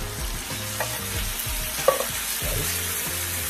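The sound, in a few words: stirring chickpeas in coconut milk curry in a pot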